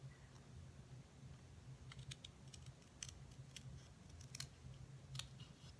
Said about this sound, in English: I'm going to cut on the bottom of the head right here to cut the face out.